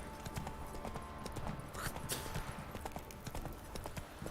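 Horse hooves clip-clopping at a steady galloping pace as Roach runs in the video game The Witcher 3: Wild Hunt, continuous and fairly prominent over a busy game soundscape.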